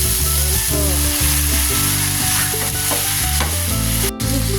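Pork and onions fry for menudo in a hot pan, a loud, continuous sizzle with stirring scrapes and clacks of a utensil throughout.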